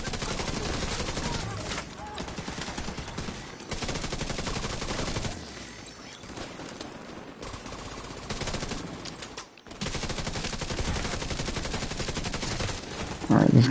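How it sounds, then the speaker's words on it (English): Dense bursts of automatic gunfire and rapid shots fill a video game firefight, nearly continuous with short gaps and a louder blast at the end. "Why you gotta shoot me?"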